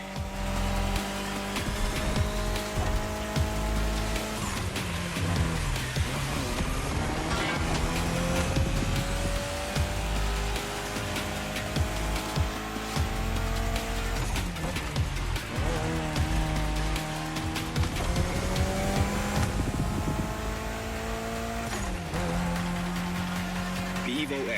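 A Mitsubishi Lancer Evo X engine drones steadily while driving in The Crew Motorfest, rising and falling in pitch through several gear changes over a long, loud stretch, with a voice talking over it.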